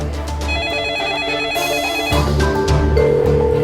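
A telephone rings with a repeating electronic tone over loud, tonal background music, and nobody speaks.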